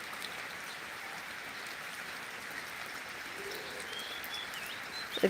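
Steady rain falls outdoors in a rural setting, a soft, even hiss of drops that stays faint and constant throughout.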